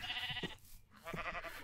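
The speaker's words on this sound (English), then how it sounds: "Oh, got sheep." Two short bleats from a sheep in a Minecraft world, one after the other with a brief gap between, fairly close and alone.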